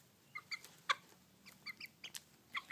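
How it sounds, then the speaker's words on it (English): A pet chicken clucks in a series of short, bright calls spaced irregularly, close and fairly soft, over a quiet background. "And this is my chicken"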